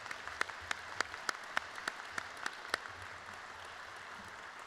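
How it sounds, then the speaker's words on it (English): A modest, scattered round of applause at an opening ceremony for Governor's Lifesaving Award recipients, with separate hand claps ringing out in an irregular patter, fairly faint and distant, before trailing off. "How about one more round of applause for everyone?"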